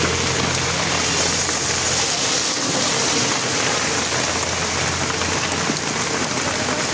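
Heavy rain pours down in Jessore town, a loud, dense and constant hiss of drops drumming on surfaces, with no pauses and no voices.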